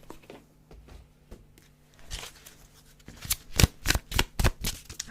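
A deck of Romance Angels oracle cards is shuffled close up, soft riffling building into a quick, rhythmic run of crisp card slaps over the last couple of seconds.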